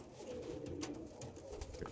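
Andhra Lalsira patta pigeons with pearl eyes coo in low, faint, rolling murmurs against a quiet background hum.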